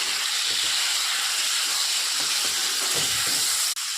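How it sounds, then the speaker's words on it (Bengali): Ripe mango pieces sizzling in hot oil tempered with mustard seeds and a dried chilli, a steady loud broadband hiss throughout with no voices. "এখন আম দিয়ে দেবো।"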